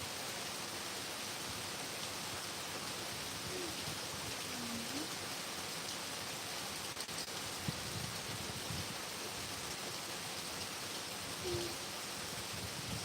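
Steady rain hisses evenly throughout, with faint low hoots and soft thumps now and then.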